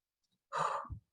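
One person draws a single deep breath in a calm workshop setting, a soft breathy rush lasting about half a second, close and quiet, with no talking.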